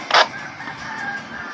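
A rooster gives a short, bright crow near the start, followed by a quieter outdoor background hum.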